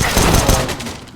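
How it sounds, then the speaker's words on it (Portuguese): A flashbang grenade goes off during a Counter-Strike-style bomb-site retake, a loud, dense burst of gunfire-like cracks and thumps that fills the whole moment, with a voice faintly present underneath. "Deploying flashbang. Throwing flashbang."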